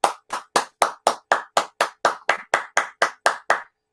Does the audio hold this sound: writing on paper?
no